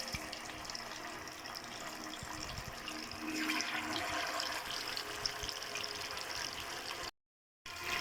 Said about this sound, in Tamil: சிக்கன் நல்லா ஊறிட்டு இப்போ சிக்கனை நாங்கள் எண்ணெயில் போட்டுட்டோம்